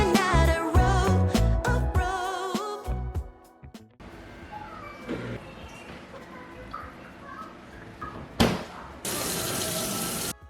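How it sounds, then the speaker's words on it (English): Hot water runs from a kitchen tap into a sink, a continuous rushing flow beginning partway through after music, growing louder near the end as the sink fills for washing dishes with Pine-Sol. "I'm gonna fill the sink up with some hot water and some Pine Sol"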